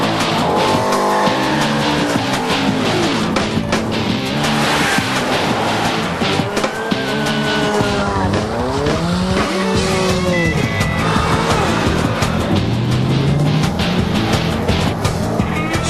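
GM concept cars, front-drive models among them, are driven hard: loud engines rev up and down while tires squeal and skid in long sliding bursts, close and continuous throughout.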